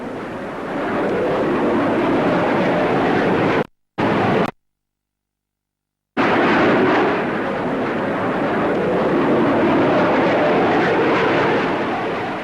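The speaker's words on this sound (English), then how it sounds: "Finally, to round off this great show, the Hawker Hunter." A Hawker Hunter F4 jet flies at the Farnborough air show with a loud, broad roaring rush, cut by two abrupt silent gaps before the roar returns and carries on steadily.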